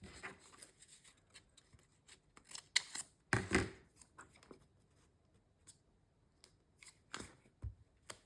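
Scissors cut paper tags and journal cards from craft scraps: soft, close snips come in irregular clusters, with brief quiet pauses between cuts.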